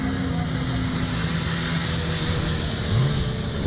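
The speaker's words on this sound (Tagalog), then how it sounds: "jeep o. Nakakatok ang makina yan." A jeep engine with a knocking fault runs steadily and close on a safari tour, a continuous loud mechanical drone with a rough low throb throughout, while voices talk faintly underneath.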